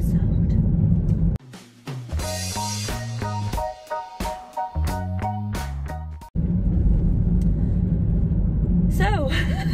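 Steady low road rumble inside a moving car in Marbella, loud at the start and end and interrupted midway by a burst of music, with a voice briefly present.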